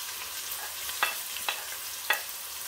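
Onions frying in a pan with garlic that has already browned, giving a soft, steady sizzle with three sharp spatula scrapes.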